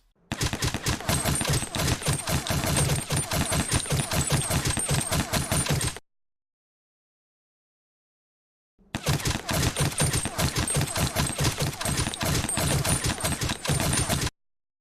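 A UMP submachine gun in The Last Player VR game fires two long sustained automatic bursts of rapid, loud, crisp shots, split by a few seconds of silence.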